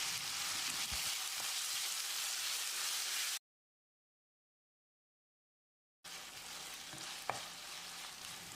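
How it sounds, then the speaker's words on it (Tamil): A steady sizzle of tomatoes sautéing with rock salt in a pan for mutton curry, with occasional stirring clinks, broken by a few seconds of total silence before the sizzling resumes. "1 டீஸ்பூன் கல்லுப்பு சேர்த்து தக்காளியை மசிகிற அளவுக்கு வதக்கிடலாம்"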